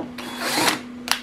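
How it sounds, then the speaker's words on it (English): A cordless power drill bores a hole during a cargo trailer camper build near a switch panel and corner cabinet, a loud whirring burst that rises and fades, then a short second spin. "And then just take your drill and"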